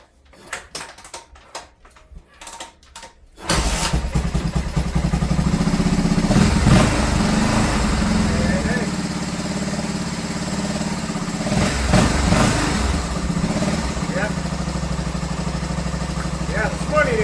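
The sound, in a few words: engine starting and running after using choke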